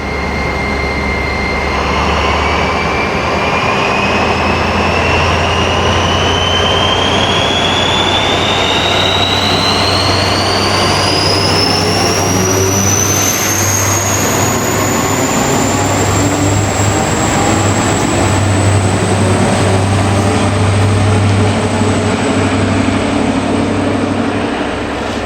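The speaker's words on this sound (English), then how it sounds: "Here we see the train about to depart from Lineside." An ex-German Class 212 diesel locomotive pulls a train away, its loud engine drone holding steady while a high whine climbs slowly in pitch over nearly half a minute.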